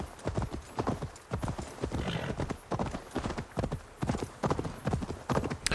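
A horse galloping in Assassin's Creed Valhalla, steady rhythmic hoof clip-clops close by, with a brief whinny, while someone talks intermittently over the hoofbeats.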